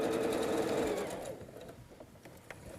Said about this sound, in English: And I'm going to sew these